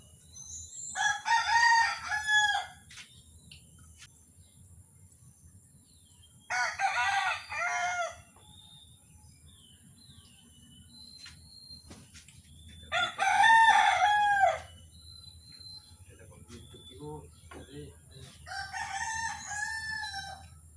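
A rooster crows several times, each call loud and drawn out, separated by pauses, with faint hens clucking and a low hum in the background.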